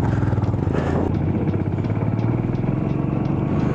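Motorcycles revving and straining nearby on the shore of Tso Kar lake in Ladakh while being pulled free after getting stuck, a steady loud engine drone with rough clattering texture throughout.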